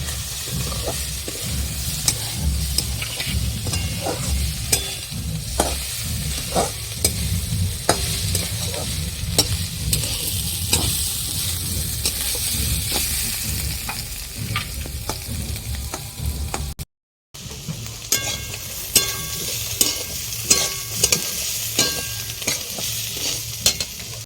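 Eggplant fries in oil in a pan for a khoira hilsa curry, giving a loud, steady sizzle with frequent scrapes and taps of a stirring utensil. The sound cuts out for a split second, then continues unchanged, and no one speaks.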